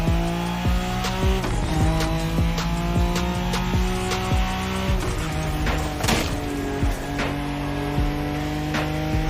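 Drifting car in The Crew Motorfest racing game, engine droning with harmonic whine as tires squeal repeatedly through long slides, loud and continuous with sharp skid bursts, no voices.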